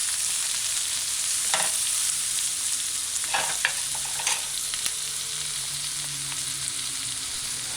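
Mashed garlic sautés with scallion in a pot for a fish and mixed vegetable stew, a constant close sizzle broken by several scraping stirs of a utensil.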